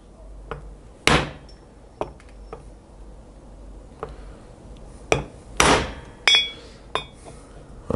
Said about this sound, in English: I'm just using a socket and an extension and my trusty little rawhide mallet to sink that new cam seal in there